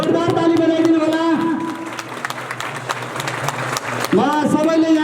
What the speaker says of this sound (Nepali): ताली ताली ल जोरदार ताली बजाइदिनु होला